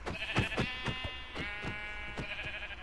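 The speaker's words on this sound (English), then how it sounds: "That's a sheep!" A Minecraft sheep bleats repeatedly in a wavering, nasal cry that runs almost continuously, accompanied by several sharp percussive hits.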